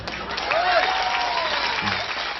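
An audience at a religious lecture claps in a steady, dense wash of applause, with a faint voice rising briefly through it.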